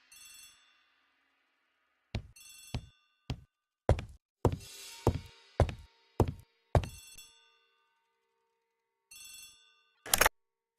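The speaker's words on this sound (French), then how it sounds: "Le téléphone sonne dans le hall." A telephone in a manor hall rings in a video game, its bright electronic bell sounding in short repeated bursts with silent gaps between them, clear and alone with no voices.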